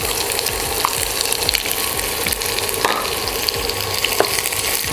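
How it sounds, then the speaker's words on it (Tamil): Thinly sliced onions fry in hot oil, giving a continuous bright sizzle with soft crackles and occasional stirring scrapes throughout, close and steady. "இது நல்லா கொஞ்சம் கோல்டன் ப்ரௌனாக ஃப்ரை ஆகட்டும்"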